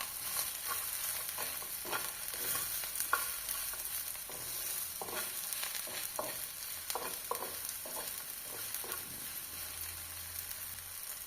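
Turmeric and salt stirred in a frying pan during brinjal frying: continuous close sizzling under irregular scraping strokes of the spoon against the pan, with no talk.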